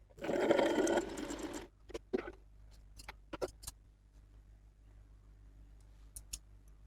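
A sewing machine stitches the collar of a high-neck blouse in a close, steady whirring run of just over a second, followed by sparse light clicks and taps.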